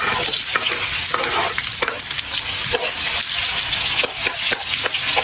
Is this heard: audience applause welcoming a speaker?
no